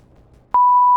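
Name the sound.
censor beep sound effect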